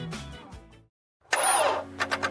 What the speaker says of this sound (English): When your car starts making that uh-oh noise